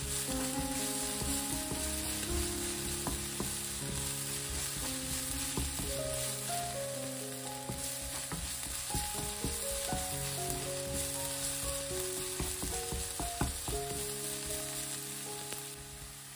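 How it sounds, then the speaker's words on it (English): Garlic and shallots frying in two teaspoons of oil give a steady, close sizzle with scattered crackles and pops, occasional stirring clinks, and no voices. "I use 2 teaspoons of oil to fry the garlic and shallots."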